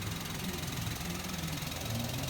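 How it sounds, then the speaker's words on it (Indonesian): A used car's engine idles with a steady, even hum and low rumble, running smoothly and continuously close by with no voices. "Di sini kita lihat suara mesin ini masih halus, normal seperti mobil pada umumnya."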